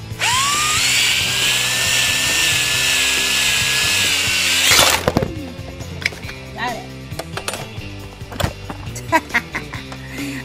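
An electric drill bit bores through a metal mason jar lid, a steady high-pitched whine lasting about five seconds before cutting off, followed by scattered clatter and handling noises.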